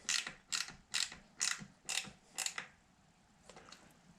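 A Zoom mountain bike brake is cinched tight in a series of about six sharp ratcheting clicks at an even pace, followed by a few fainter ticks, close up and with no talk.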